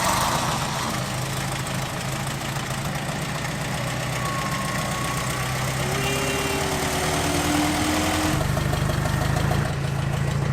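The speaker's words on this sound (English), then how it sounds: "Straight from last week's video, the tractor." A tractor engine idles steadily beside an old Ford pickup, a constant low mechanical rumble with a faint knocking undertone that shifts slightly near the end.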